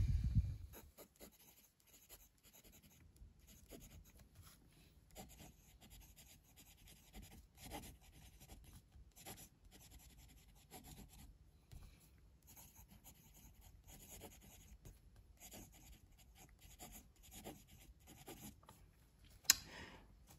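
Faint, close scratching of a Pen 7 compact ebonite fountain pen with a Bock nib moving across paper, soft intermittent strokes with small pauses in a quiet room.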